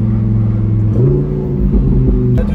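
Lamborghini Huracan EVO V10 (2021, four-wheel drive) accelerating hard through paddle-shifted gears, a loud, steady engine drone with rising pitch and a brief shift dip, close and alone without talk.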